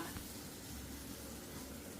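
Lentil vadas (garelu) frying in hot oil at home, a steady close sizzle running continuously throughout.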